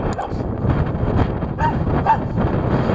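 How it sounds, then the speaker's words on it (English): Several dogs bark and whimper close by during heavy wind, a steady rush of gusts running under the short yips and barks. "Man, those dogs, they sound like they're vicious."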